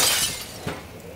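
Glass shatters in the horror video game Amnesia, a sharp crash with bright scattering debris that quickly decays, then a small thud after a short pause.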